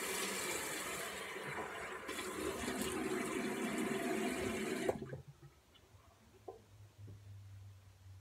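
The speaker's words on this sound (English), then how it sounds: "First, you're gonna wanna wet your hair." Running water soaks hair at a tap, a steady rushing flow for about five seconds that then cuts off, leaving a quiet room with a few faint knocks.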